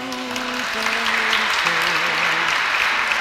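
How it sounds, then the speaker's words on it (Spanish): Wedding guests applaud steadily after the vows, a continuous wash of clapping throughout while sustained music tones play underneath. "Les damos un aplauso."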